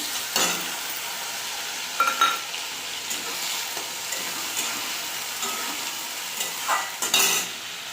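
Ground paste of dried red chillies, green chillies and whole cumin frying in oil for a hilsa and aubergine curry: a continuous moderate sizzle with occasional stirring scrapes and light clinks of a utensil on the pan.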